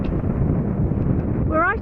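Strong wind gusts across the open top of the downland near Beachy Head, roaring and buffeting the microphone in a loud, continuous rumble, with a voice briefly audible near the end.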